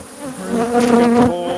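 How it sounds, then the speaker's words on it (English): Honey bees buzz densely and continuously around a hive held in the hands, a close, steady swarm drone that swells slightly midway. "We got the whole damned hive"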